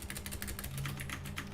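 Code being typed on a computer keyboard in a quick, even patter of close keystrokes, with no voice over it.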